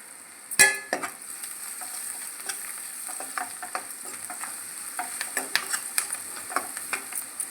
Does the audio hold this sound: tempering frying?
yes